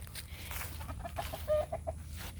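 Chickens in an open-air coop give a short run of soft, rhythmic clucks at moderate distance over a low steady background hum.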